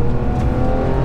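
A GT3 race car engine drones loudly and close on a circuit track day, a brief, steady low rumble with strong harmonic buzz.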